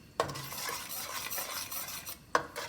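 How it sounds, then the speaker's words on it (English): Vegetables for pav bhaji stir fried in a pan, a soft sizzle with scraping as they are moved, marked by two sharp metal clinks of the utensil against the pan, near and without speech. "Stir fry it for 2-3 minutes"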